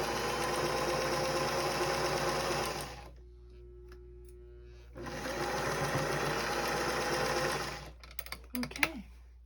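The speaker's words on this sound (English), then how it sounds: "This machine just has such a beautiful stitch." A vintage 1960s Rocketeer sewing machine stitches in two steady runs of about three and two seconds, separated by a brief hum, then quick clicks and handling noises follow up close.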